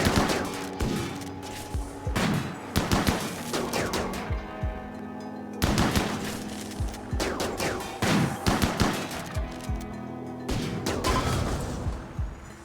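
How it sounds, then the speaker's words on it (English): Bursts of gunfire in the video game Rimworld, clusters of rapid sharp shots repeating in several volleys with brief pauses and some heavier booms between them. "and we shoot this thing"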